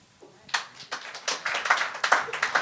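A small audience breaking into applause at a live comedy game show, scattered claps building quickly into steady clapping, fairly near and without talk.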